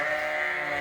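A sheep on a farm field at dusk gives one sustained, wavering bleat, close and fairly loud, with no talking.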